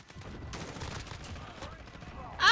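Rapid gunfire from an M4A1 assault rifle in the shooter Modern Warfare crackles in dense bursts under game noise and faint talk, with a louder sharp sound at the very end.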